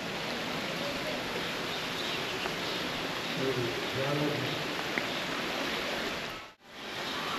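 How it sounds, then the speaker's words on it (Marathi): Heavy monsoon rain falls at a temple in Goa as a dense, continuous hiss, with a faint voice briefly audible beneath it before a sudden cut. "जबरदस्त पावसाने आमचं आगमन केलेलं आहे"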